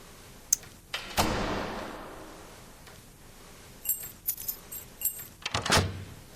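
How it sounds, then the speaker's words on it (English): Keys jangle and scrape as they turn in a lock in an indie horror video game, with a sharp clink early, a long metallic rattle, then a cluster of quick close clinks and turning clicks near the end. "Very long period of keys turning in the thing."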